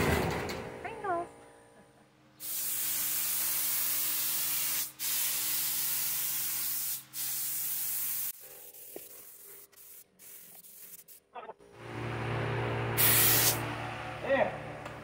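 Spray paint hisses onto a Dodge Neon in long sustained bursts, loud and close, broken by short pauses, with people talking between bursts.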